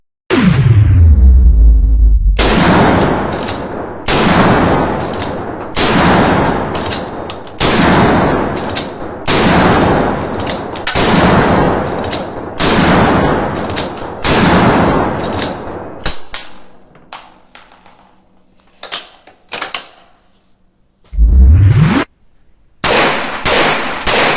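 Winchester 9422M rimfire rifle firing a rapid series of about eight sharp shots at steady intervals, loud and close, then a pause with faint mechanical handling and two more shots near the end.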